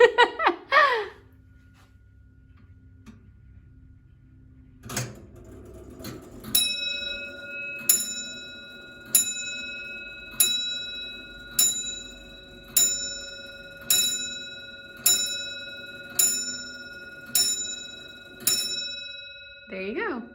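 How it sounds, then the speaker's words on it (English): A large clock, over seven feet tall, strikes eleven as a single hammer hits its bell. The chimes ring out loud and near at a slow, steady pace, each one decaying into the next, with a brief voice before and after. "it just has one hammer that goes up against the bell"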